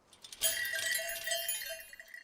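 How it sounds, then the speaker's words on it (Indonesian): A bell mounted on a gate rings as the gate opens, a bright metallic jangle that starts suddenly, rattles on for about two seconds and fades, heard alone and fairly close. "ketika pagar itu dibuka, otomatis lonceng itu berbunyi"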